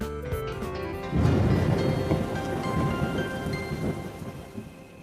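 Heavy cartoon rainstorm with a loud thunder crash about one second in, followed by dense, steady rain and rolling rumble that slowly eases; no voices.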